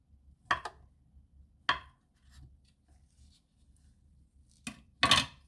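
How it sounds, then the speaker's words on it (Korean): A knife cuts ham into bite-size pieces: four or five crisp, separate chops spaced by near-silent pauses, close and fairly quiet. "먹기 좋은 크기로 이렇게 이렇게 잘라서"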